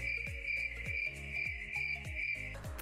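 Cricket chirping sound effect, a steady high trill over a regular pulsing beat, loud and alone, cutting off just before the end.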